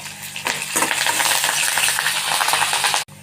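Curry leaves, mustard seeds and onion with broken dried chillies crackle in hot oil during a tempering for greens, a dense steady sizzle with sharp pops that cuts off abruptly near the end.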